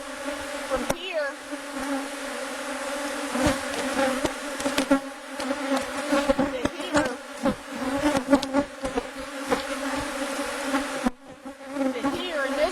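Honeybees buzz loudly and steadily close by as a beehive is opened and inspected, a dense droning hum with occasional knocks and handling noises and a brief voice in the background.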